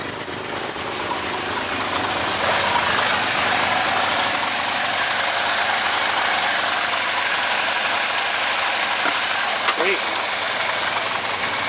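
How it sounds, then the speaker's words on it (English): A 1967 Mercedes engine with over 300,000 miles idles after a cold start, a steady, even mechanical hum running throughout, with a brief spoken word near the end. "Sounds like it's even running on all the cylinders."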